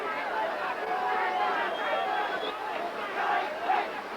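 Boxing arena crowd in Mexico City at a 1975 title fight, a dense murmur of many voices with a few scattered cheers rising out of the babble, all at a steady moderate level.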